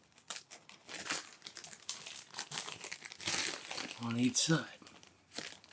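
An adult diaper with a blue core, tall leg guards and Velcro tapes is handled, giving close, continuous plastic crinkling and rustling in bursts while a person talks over it.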